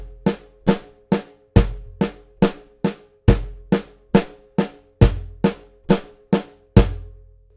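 Double strokes on a drum set from a Zildjian lesson: a steady stream of about fourteen crisp hits falling in pairs, each with a bright attack and a quick decay, close and loud with no talking.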